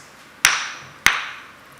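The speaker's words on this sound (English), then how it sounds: "if you take two rocks and you put them together, they will make a sound like this." Two rocks are struck together twice, about half a second apart, giving sharp bright clacks with a short ringing tail, fairly close and with no talk.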